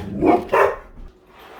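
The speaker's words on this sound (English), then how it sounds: "I told you they were going to bark" Dogs give two close, loud barks in quick succession indoors, followed by a faint fading tail of sound.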